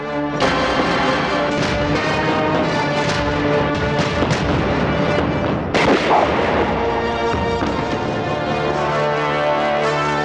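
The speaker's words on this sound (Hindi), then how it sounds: "गोली चला दूंगा बजाज" Loud, rapid bursts of gunfire in a Bollywood film ring out repeatedly over dramatic background music, with a heavier blast midway through.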